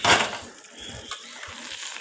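Mango pickle frying in oil in a pan, a burst of sizzling followed by scraping stirs and soft crackles, close and moderately loud, with no talk.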